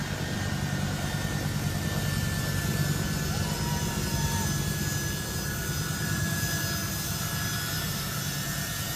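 Airplane jet engine roaring steadily for several seconds, a loud continuous rushing drone with a faint high whine, no pauses.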